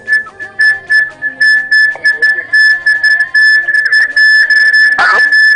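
Sustained whistling by people in a busy setting with a television nearby, a steady piercing tone held across the clip over background voices and clatter, with a louder burst near the end.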